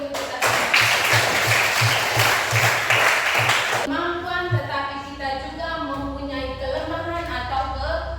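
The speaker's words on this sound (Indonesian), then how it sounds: "Tepuk tangan dulu untuk kita" An audience bursts into applause for about four seconds, with steady rhythmic clapping, before it cuts off and voices take over.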